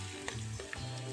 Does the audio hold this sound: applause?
no